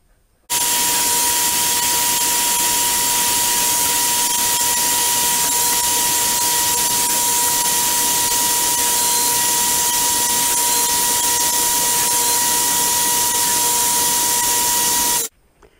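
A table saw runs a board through to cut a kerf in wood, giving one continuous loud, steady whine and hiss with a strong tone held through the pass. It starts abruptly and stops abruptly, with no talk.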